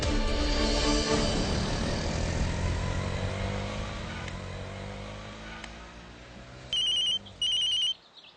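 A mobile phone rings for an incoming call in a TV serial scene. Two short, bright electronic ringtone bursts come near the end, after a passing vehicle's engine rumble has faded away.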